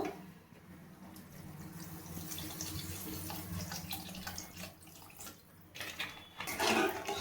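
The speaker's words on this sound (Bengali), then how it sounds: "আমি পরিমাণ মতো জল দিয়ে দেবো পটল আর আলুটাকে ভালোভাবে সেদ্ধ করার জন্য" Water pours steadily into a cooking pot for boiling pointed gourd and potato, a continuous splashing stream nearby that briefly pauses and then surges louder near the end, with no talking.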